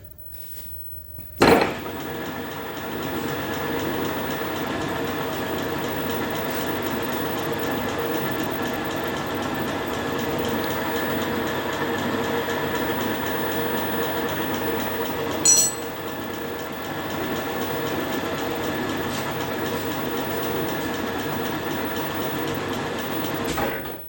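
A machine spindle turns steadily at 500 RPM with a boring bar holder fitted, a continuous mid-level mechanical whir with a sharp knock near the start and a brief clank partway through.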